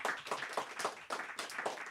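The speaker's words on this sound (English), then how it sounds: "Let's give Adam a round of applause." An audience applauds author Adam Plantinga after a book talk, steady overlapping claps from a modest crowd at a fairly quiet level, a dense rhythmic patter with no voices.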